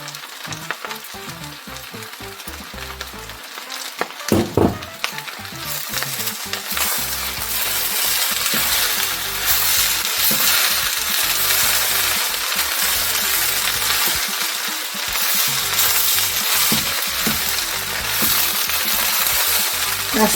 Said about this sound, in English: That sound is to tell you that it's frying